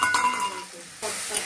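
Spice paste hits hot oil in a pan for a Bengali rohu fish kalia, giving a brief loud hissing sizzle with a stirring scrape, swelling again toward the end.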